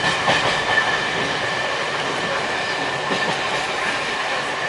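Train rolling over Crofton Road Junction on the old South London line near Peckham Rye, a steady rumble with faint wheel clatter on the rails throughout, no voices.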